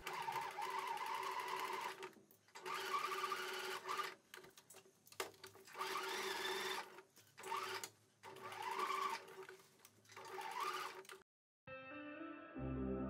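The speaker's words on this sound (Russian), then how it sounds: "И прокладываем строчку." A sewing machine runs in steady bursts as it stitches knit sportswear trousers, with short pauses between runs and a brief clip of unrelated music near the end.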